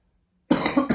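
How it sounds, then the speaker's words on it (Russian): A single child's cough bursts out after half a second of silence, a short double-pulsed hack, close and clear with no talking. "Потому что ты кашляешь?"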